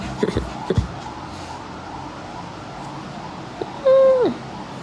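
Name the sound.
person imitating a cat meowing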